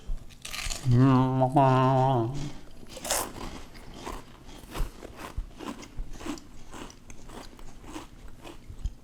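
Pickled onion Monster Munch crisps bitten and crunched close to the mic, a series of sharp crunchy bites and chewing after a short spoken or hummed sound at the start.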